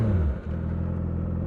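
A Yamaha R6 sport bike engine roars steadily and loudly nearby, a brief dip in pitch giving way to a sustained, rising drone of hard acceleration with no talking.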